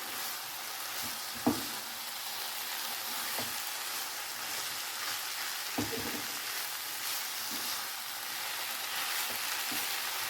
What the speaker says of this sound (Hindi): मेथी के पत्तों को डाल लेते हैं इसमें। और अब इसे चलाते हुए पकाएंगे।